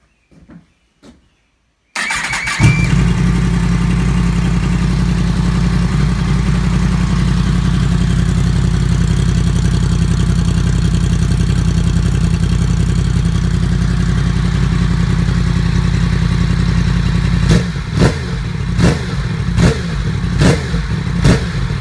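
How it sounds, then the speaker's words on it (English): A 2017 Yamaha FZ-10 motorcycle with a shortened stock exhaust and deleted butterfly valve starts up after a few faint clicks, then idles steadily and loud up close, ending with a series of sharp throttle blips. "it sounds a whole hell of a lot better, and you actually hear your bike running"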